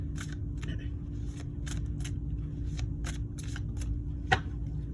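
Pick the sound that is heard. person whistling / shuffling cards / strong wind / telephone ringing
shuffling cards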